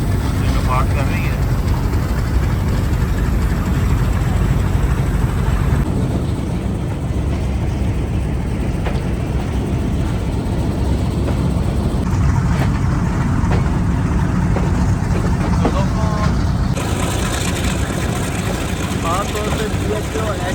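Thall Express locomotive hauling a short three-coach train from Rawalpindi toward Attock rumbles steadily, a loud, continuous engine drone with rattling and shifting noise over the whole stretch.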